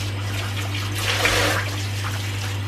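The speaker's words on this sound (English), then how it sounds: "this is the mushroom. Let's give this a wash." Tap water runs steadily over mushrooms being washed for a chicken stir fry, a continuous close splashing trickle over a low steady hum, with no talking.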